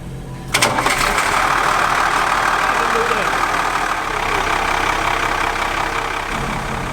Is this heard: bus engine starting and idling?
yes